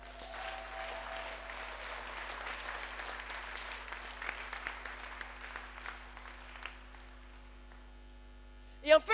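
A church congregation applauds, a soft, fairly distant patter of clapping over a steady electrical hum that thins out and fades before a short loud bump at the very end.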